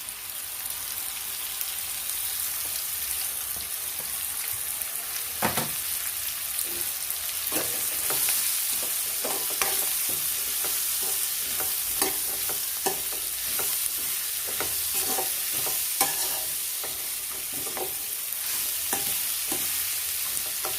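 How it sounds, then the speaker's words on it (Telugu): Radish pieces sizzle steadily in a hot pan while a utensil stirs and scrapes through them, giving irregular clinks and scrapes over a constant close-up frying hiss. "ముల్లంగి ముక్కలు ఉన్నాయి కదా, ముల్లంగి ముక్కలు దీనిలో వేసేసుకున్నాం."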